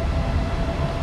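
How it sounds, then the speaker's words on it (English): A train rumbles loudly and continuously at a railway station platform in Chiang Mai, Thailand, a dense low roar with a faint steady tone above it. "This is our train."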